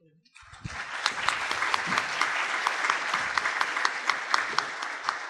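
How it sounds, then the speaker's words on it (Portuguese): A crowd applauding steadily, a dense wash of clapping that starts abruptly and carries on at an even level, with sharper individual claps poking through. "nossas palmas expressam agradecimento, também o reconhecimento pelo trabalho tão intenso"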